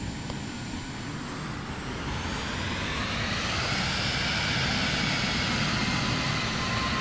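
An airplane engine in Microsoft Flight Simulator 2024 spools up steadily, its broadband roar and whine rising in pitch and loudness over several seconds, with no talking over it.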